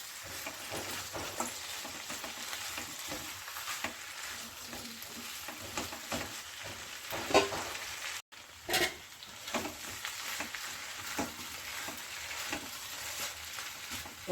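Fried brinjal goes into a pan of flat bean and brinjal curry, followed by a steady close sizzle with the scrape of stirring and a brief sharp clatter midway.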